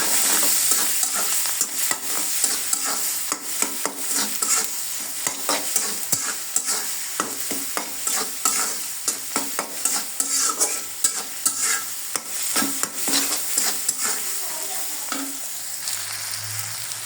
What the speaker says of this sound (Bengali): এখানে নুডলসটা আমার দিয়ে দিছি, ভালো করে ভেজে নেব।